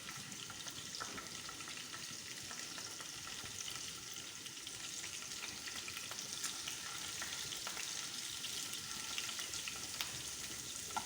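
Tomatoes and masala fry in a pan for a chicken tikka masala, giving a quiet, continuous sizzle with occasional soft stirring scrapes and no talking.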